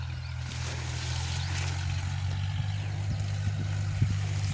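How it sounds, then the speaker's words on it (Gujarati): A tractor engine drones steadily in a farm field, a constant low rumbling hum with faint outdoor noise around it. "ટ્રેક્ટર ચાલે છે"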